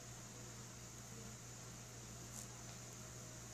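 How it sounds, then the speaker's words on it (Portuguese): An electric fan runs indoors with a faint, steady whirring hum and a low tonal drone, unchanging throughout the clip. "Vocês estão ouvindo o barulho do ventilador"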